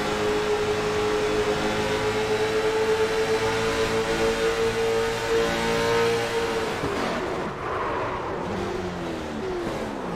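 Late model race car engine heard from an in-car camera during a race, a loud continuous roar with a steady high whine that drops and rumbles as the car slows near the end.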